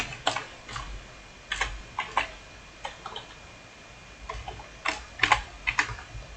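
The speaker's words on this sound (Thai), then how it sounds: "ครูใช้แป้นพิมพ์เลยนะคะ" Fingers type on a computer keyboard while entering numbers into an Excel spreadsheet, with close, crisp key clicks in irregular bursts and pauses against a quiet background.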